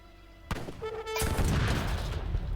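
A heavy explosion in Age of Empires 3: Definitive Edition hits after a brief tonal game sound, followed by a sustained, loud rumbling roar of blasts and gunfire-like crackle.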